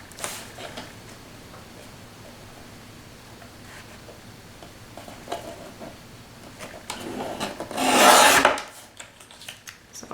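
A paper trimmer cuts patterned paper for a Christmas flip book, quiet scraping and rubbing sounds that build to one loud rasping slide of the blade near the end, with no talking.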